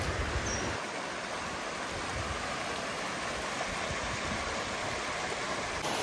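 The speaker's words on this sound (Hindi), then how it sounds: "मैं आपको दिखाता हूँ कि ये कितना खूबसूरत और कितना सुंदर सा एक झरना है।" A waterfall a couple of kilometres before the Tambdi Surla Mahadev temple in Goa, a steady broadband rush of falling water, close and constant with no other sounds.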